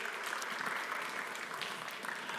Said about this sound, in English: A big round of applause if it's possible.